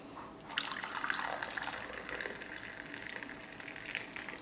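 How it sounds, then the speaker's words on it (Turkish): Hot water poured into a glass over herbal tea ingredients, a continuous splashing, bubbling fill that runs for several seconds at close range. "Daha sonra üzerine sıcak su ilave ediyorum."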